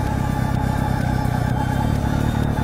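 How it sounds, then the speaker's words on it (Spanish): A motorcycle pulls away in first gear as the clutch is eased out, its engine a loud, continuous rough rumble with a steady pulsing throb, heard close up with no talking. "ahora apretamos la maneta de embrague, ponemos primera y iríamos soltando poco a poco"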